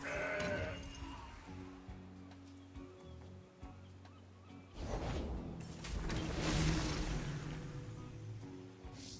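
A goat card in the digital card game Legends of Runeterra bleats in short, wavering, nasal calls over layered game music and soft whooshing effects, with a fuller burst of sound midway.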